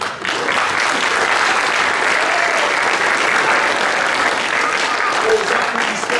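Sustained audience applause after an amateur theatre performance of Les moutons de Panurge, a dense, even wash of many hands clapping for about six seconds, loud and continuous.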